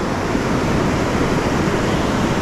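Low surf washes onto a rocky shore at the water's edge while crabbing for Dungeness crab, a steady broadband roar with gentle swells that never pauses, close and fairly loud, with no talk.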